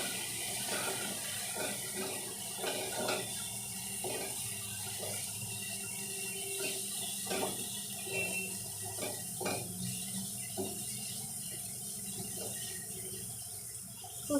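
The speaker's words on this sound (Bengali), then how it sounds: "জল দিলাম" Water runs and splashes steadily into a pan of spiced koi fish curry, a soft, fairly quiet stream with faint clinks and no talking over it.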